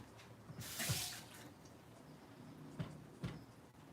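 A leaking sink faucet lets water drip and splash in a quiet room, with a few distinct drops landing at irregular intervals over a faint background hiss.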